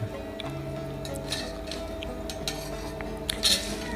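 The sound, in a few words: tossing shredded green papaya with seasoning for papaya salad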